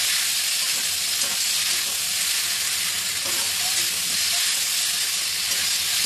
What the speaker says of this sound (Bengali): এটাকে ভালো করে কষিয়ে নিতে হবে, আলু, টমেটো, কাঁচা লঙ্কা, আদা বাটা।